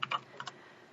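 A computer keyboard is typed on briefly, a few quick close keystrokes in a short burst and then quiet.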